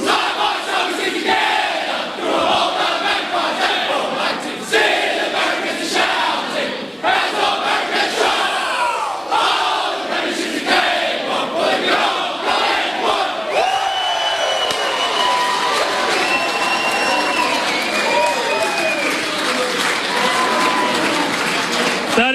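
Collingwood footballers and staff in the team rooms after a 2018 preliminary final win against Richmond, a loud crowd cheering, shouting and chanting together, dense and continuous, with some talk mixed in.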